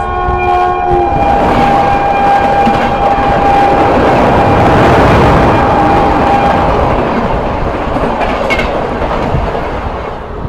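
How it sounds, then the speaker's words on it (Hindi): The Ayodhya Express, running from Ayodhya Cantt to Delhi, passes on the opposite track, heard from inside a moving train. A long horn blast opens over a loud, continuous rumble and rhythmic wheel clatter. "ये दोस्तों सामने से आती हुई अयोध्या कैंट दिल्ली अयोध्या एक्सप्रेस आती हुई"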